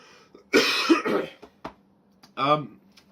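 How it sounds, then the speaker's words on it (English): A few harsh coughs break out up close, separated by short pauses, with a brief bit of voiced throat noise near the end. "Excuse me, I've got a cough."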